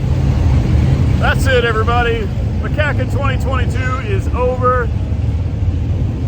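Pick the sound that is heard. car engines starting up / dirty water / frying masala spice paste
car engines starting up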